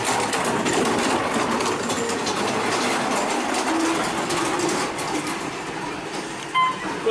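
A slow elevator at Circus Circus in Reno, Nevada runs with a steady mechanical rumble and rattling hum, fairly loud and continuous, with a few faint clicks and a brief bump near the end.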